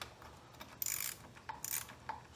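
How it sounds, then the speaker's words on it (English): A wrench works loose the two 10 mm bolts holding the plastic air cleaner onto the carburetor of a Honda EU7000is generator, giving faint, close metallic ratcheting clicks in short bursts. "we're going to remove the 2 bolts holding the plastic air cleaner on the carburetor"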